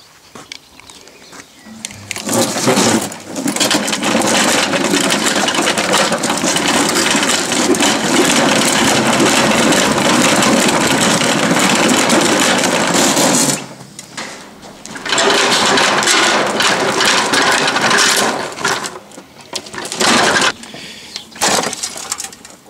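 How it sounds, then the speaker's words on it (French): Broken lawn mower engine running hard, a loud, rough, rattling roar that holds steady for about ten seconds, cuts out briefly, then revs again in uneven bursts with clattering noises before stopping. "Je vais faire crever le moteur à part parce qu'il est increvable ce con."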